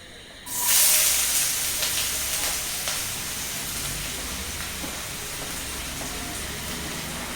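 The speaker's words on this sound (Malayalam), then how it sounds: "അപ്പോൾ വെളിച്ചെണ്ണ ചൂടായി കഴിയുമ്പോൾ നമ്മൾ ഈ അരിഞ്ഞ് വെച്ചിരിക്കുന്ന ഇതിലോട്ടിട്ട്" Chopped ingredients for a potato omelette dropped into hot coconut oil, bursting into a loud hiss that settles into a steady, continuous sizzle.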